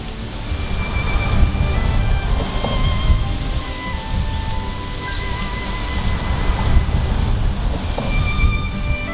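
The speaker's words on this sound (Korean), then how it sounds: "억새정원의 가을은 바람소리와 함께 찾아온다." Wind sweeps steadily through a silver grass garden in autumn, a continuous soft rushing with rustling stalks, moderately loud and unbroken throughout, with no voices.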